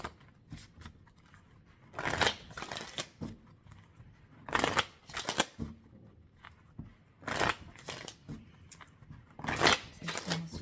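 Oracle cards are shuffled and drawn during a tarot-style reading, giving several bursts of papery riffling and flicking separated by quieter pauses with soft handling sounds.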